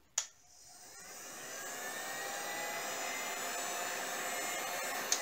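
A heat gun, quieter than a hair dryer, is switched on with a click, and its airflow rises into a steady close whooshing hiss that holds evenly until another click near the end.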